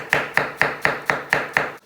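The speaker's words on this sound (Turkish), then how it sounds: "Soğanlarımızı çok ince doğrayacağız." A knife finely chops onions on a board in seven sharp, evenly spaced strikes, close and crisp, stopping abruptly; no talking.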